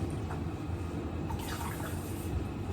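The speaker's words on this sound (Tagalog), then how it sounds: "Tapos, lagyan na natin ng tubig." Water poured into a pan of sautéed sardines, a steady pouring and splashing wash that runs throughout, close and moderately loud with no talk.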